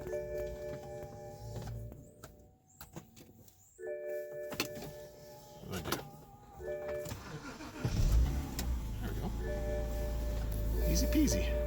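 A non-running BMW bought from a salvage auction cranks and fires up after a quiet stretch with speech, its engine catching near the end and settling into a steady, close idle.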